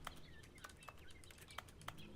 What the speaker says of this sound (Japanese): 小鳥のさえずりが聞こえる。